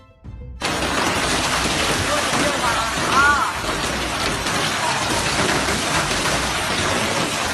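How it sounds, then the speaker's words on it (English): A severe hailstorm in Guangxi and Ganzhou, Jiangxi Province, China, pounding down as a loud, dense, steady roar that begins abruptly and continues unbroken, with no clear voices. "a severe hailstorm that hit the region on Tuesday afternoon"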